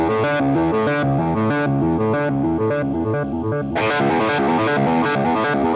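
Bright, bouncy electronic tones from a DigiTech Hammer On guitar effects pedal in a quick repeating chiptune-like melody, like retro video game music, with a gritty distorted edge and a brighter shift partway through.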